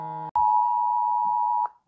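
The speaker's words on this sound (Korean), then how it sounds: "이거 오늘 진짜 이 소리 들으시죠? 예, 비상사태 경보 긴급" Emergency alert warning for wildfire from a phone: a brief stepped tone, a sharp click, then a single loud, steady electronic beep held for more than a second before cutting off, with no talking.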